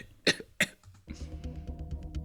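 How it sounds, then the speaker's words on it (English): A man coughs twice, sharp and close, then music or background sound continues steadily underneath. "And he's coughing."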